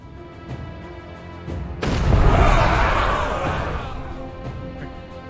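Cannon fire in the game We. The Revolution: one loud, booming blast midway that swells into a long, rumbling roar and slowly fades.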